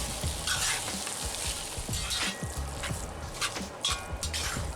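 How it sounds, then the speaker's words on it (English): Ketchup fried rice being stirred in a hot cast iron pan, a steady loud sizzle with repeated scraping strokes of the utensil through the rice, no voices. "Once the rice is hot, we add the ketchup sauce and stir it all around to mix it in"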